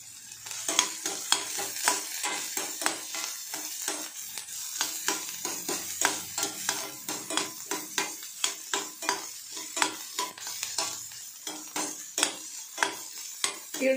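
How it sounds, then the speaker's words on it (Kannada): Sliced onion and green chili frying in hot oil for an egg and drumstick-flower stir-fry, with steady sizzling and repeated rhythmic scrapes of a spatula stirring against the pan, close and clear. "ಈರುಳ್ಳಿ ಸ್ವಲ್ಪ ಫ್ರೈ ಆಗಬೇಕು."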